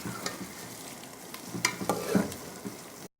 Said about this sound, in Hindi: चम्मच हमें चलाते रहना है जब तक कि लाइट ब्राउन ना हो जाए।